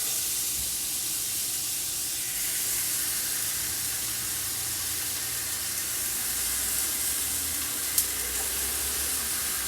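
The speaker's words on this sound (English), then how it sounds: "You can hear them sizzle." A soft, steady sizzle of corn frying in butter in a saute pan over medium heat, faint and continuous, with one brief tick near the end.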